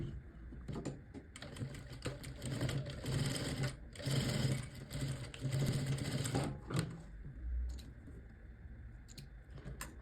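A sewing machine runs a long seam of stitching along a strip of lace for a bomber jacket sleeve. It gives a close, steady mechanical whir in sustained bursts, with brief pauses and restarts.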